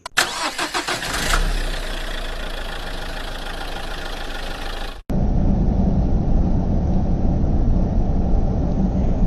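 A car engine cranks with several rapid starter pulses, catches and revs up, then a hard cut leads into a steady loud idling rumble, close and without voices.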